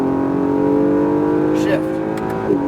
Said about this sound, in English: Now throttle, full throttle, and unwind to the left.